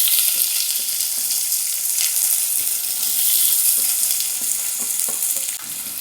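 Chopped onion with dals frying in hot oil for rice uppuma, a steady, loud, continuous sizzle with occasional stirring scrapes, no voices.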